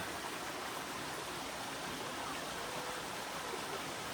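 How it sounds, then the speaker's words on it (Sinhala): A steady, full rush of flowing water from a stream or small cascade on a nature trail near Rome, Italy, continuous and close, with no voices. "මෙතනින් තමයි එන්නේ වතුර පාර"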